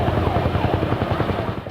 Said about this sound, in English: those helicopters, again, usually used against wildfires, were brought in